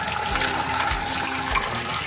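Water pours steadily from a pipe onto a farm plot growing tomatoes, a continuous close rushing gush with low rumbling under it, with no talk.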